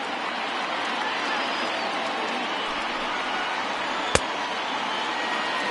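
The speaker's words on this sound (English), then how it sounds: "Not the largest crowd ever, but they're on their feet." A baseball stadium crowd on its feet in a Tigers at Indians MLB game, cheering as a steady, dense roar that holds evenly throughout, with one sharp click partway through.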